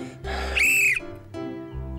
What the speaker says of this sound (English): This whistle is great.